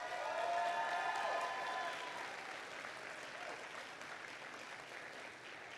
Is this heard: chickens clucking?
no